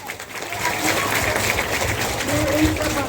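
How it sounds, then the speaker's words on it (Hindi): An audience at a Christian healing gathering claps steadily, a dense sustained round of applause with a voice faintly underneath throughout. "केवल जोरदार ताली दो।"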